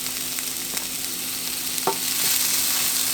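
Vegetables sizzle and fry steadily in a pan with avocado oil and fajita seasoning, with a soft stir or scrape partway through and the hiss rising slightly toward the end.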